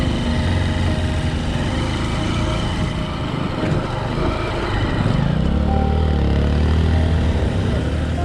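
A Honda XR150L motorcycle engine drones loudly and steadily at close range, with the pitch rising and falling as the rider lifts into a wheelie, and wind noise running throughout.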